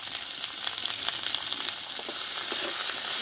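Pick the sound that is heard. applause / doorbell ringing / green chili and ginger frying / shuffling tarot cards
green chili and ginger frying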